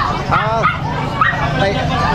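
A dog imported from China, kept in the Philippines, gives a few short yipping barks close by amid voices and background chatter.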